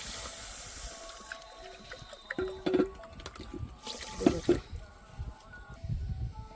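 Water poured from a bowl onto sugar in a pan for syrup makes soft splashing and trickling in a couple of short bursts over a quiet kitchen background.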